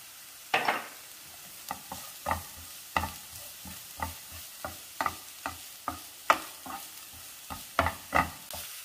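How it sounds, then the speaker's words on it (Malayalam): Cabbage and green peas thoran being stirred in a pan: a steady series of distinct scraping strokes, roughly one every half second, close and clear over a soft sizzle, with no talk. "നന്നായിട്ടൊന്ന് മിക്സ് ചെയ്യണം."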